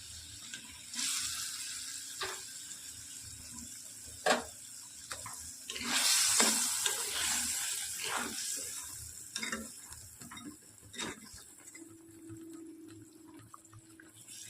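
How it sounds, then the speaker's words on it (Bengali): Pieces of katla fish are stirred into a simmering mustard curry with soft wet stirring, utensil clinks and a faint bubbling sizzle, close and fairly quiet. "এবার আমি আস্তে আস্তে মাছগুলোকে দিয়ে দেবো, দিয়ে মিশিয়ে নামিয়ে নেবো।"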